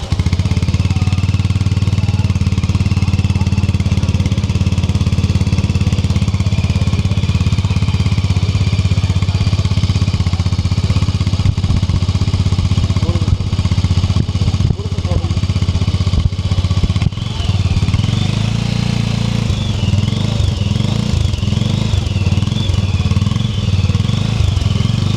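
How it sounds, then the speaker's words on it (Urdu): A Sothassi 400 Classic motorcycle with a four-valve single-cylinder engine and baffles fitted runs steadily at idle, giving a continuous close thumping drone with slight variation in pitch and no talk over it. "اور 4 والو ہیں، جس کی وجہ سے آپ لوگوں کو ایک ساؤنڈ بڑی اچھی پلک پلک پلک پلک پلک پلک قسم کی ساؤنڈ ملے گی"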